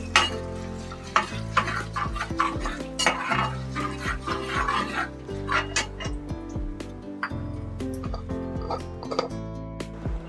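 Cumin seeds roasting in a pan for pulao, with a spoon scraping and stirring in quick clicks and a soft frying hiss, all under steady background music.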